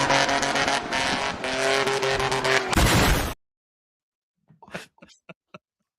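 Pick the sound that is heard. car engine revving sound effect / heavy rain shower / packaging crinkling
car engine revving sound effect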